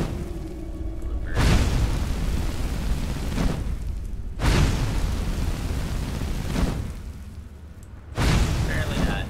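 The Flames destruction spell in the Skyrim video game, cast in Snapleg Cavern, makes a roaring, whooshing burn. It comes in three long surges that start abruptly and then fade, loud and close.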